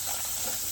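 Steady, bright hiss of coconut paste sizzling in hot oil in a pan, close and continuous for a brief moment with no voices.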